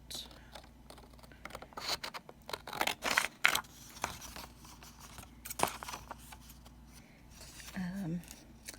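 Scissors snip and trim a rubber-stamped paper card, a few close, crisp cutting and rustling bursts in quiet surroundings.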